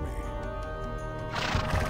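A horse in Warcraft 3 neighs with a drawn-out whinny, followed by a louder burst of game noise toward the end, with no voices over it.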